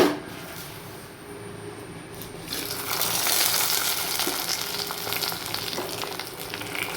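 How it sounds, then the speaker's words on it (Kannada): Hot oil crackles and sizzles loudly as spices hit the pan, a dense spitting hiss that swells after a quieter start and keeps going steadily. "ಒಗ್ಗರಣೆಯನ್ನು ಹಾಕ್ತಾ ಇದ್ದೇನೆ"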